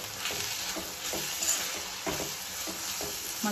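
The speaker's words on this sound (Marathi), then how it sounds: "एक 1/2 चमचा हळद, 1/2 चमचा गरम मसाला, हे सगळं मिश्रण एकत्र करून घेऊया" A spice masala with turmeric and garam masala is stirred in a pan, giving soft repeated scraping strokes over a low sizzle and no talking.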